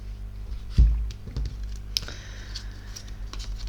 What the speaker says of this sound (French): Mais il y a beaucoup trop de cartes. On va rebrasser.